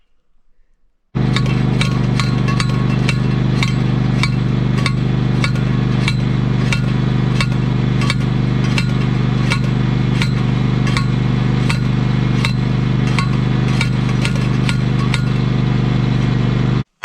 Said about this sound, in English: I'm going to keep on hammering it in there while he pulls on it